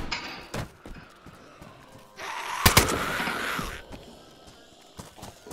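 Gunfire from zombie shooting in the DayZ video game: a few sharp, loud shots break out in short bursts, mostly in the middle of the clip, against a busy background of game noise.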